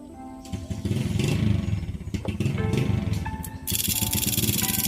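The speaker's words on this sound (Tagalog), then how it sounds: "gumana naman yung rapid backfire natin" A Raider 150 streetbike engine revving loud and close with a rapid backfire setup, a rough rumbling drone broken by crackling pops, alone without voices.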